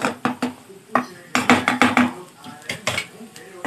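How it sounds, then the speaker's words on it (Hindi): A potato masala mashed in a pan, heard as a string of close, sharp metal-on-pan taps and scrapes in an uneven rhythm that runs without a break. "हल्का हल्का हम मैश करेंगे।"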